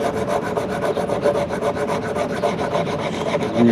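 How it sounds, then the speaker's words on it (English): Wooden arrow shaft bases being sanded flat for primitive fletching, a steady close scratchy rubbing that runs continuously without a break. "you're just going to sand these bases down, just to give them somewhat flat"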